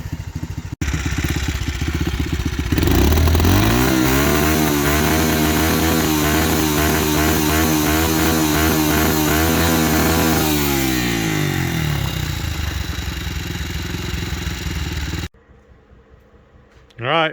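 A Yamaha TTR 90 dirt bike, being restored and with a one-way kickstarter bearing issue, fires up loud and close, revving and running with a buzzy engine note for several seconds before the engine cuts and falls quiet.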